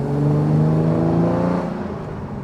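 A Jaguar MK2 pulls away from nearly standstill in second gear, its engine note rising in a loud, close, smooth drone, then easing off toward the end, with no talking.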